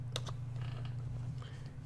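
Quick keystrokes on a computer keyboard as a short product name is typed into a search box, a few clicks over a steady low electrical hum.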